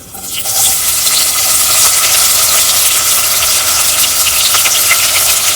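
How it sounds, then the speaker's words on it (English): Chopped onions hit hot oil already spluttering with dried spices in a pot and set off a loud, steady sizzle that keeps going with no break. "I'm going to add the onions to it."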